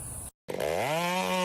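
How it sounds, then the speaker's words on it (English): A sharp chainsaw revs hard as it cuts the top off a tall tree, breaking off briefly before its engine roars back up to a loud, steady whine. "The sharp chainsaw growls, and within seconds, the top is cut clean."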